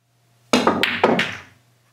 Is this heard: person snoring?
no